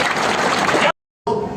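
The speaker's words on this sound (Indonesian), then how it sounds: "Tepuk tangan yang paling meriah buat Tuhan." A church congregation applauds in a dense, steady burst of clapping that cuts off abruptly, then resumes briefly.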